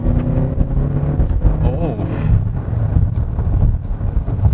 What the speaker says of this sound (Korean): 엔진이 개입할 때 그 소리가 조금 더 큰 편인 것 같습니다